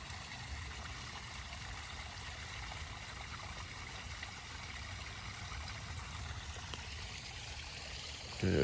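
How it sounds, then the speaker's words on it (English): Small stream running across rural property after an April thunderstorm, a steady broadband rush of flowing water heard close and continuous, with a louder burst at the very end. "Where the water runs. A lot of water."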